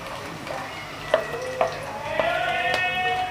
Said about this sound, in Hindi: ऑयल हमारा ऑलरेडी गर्म हो चुका है, तो हम अब इसमें अपनी प्याज को ऐड कर देंगे।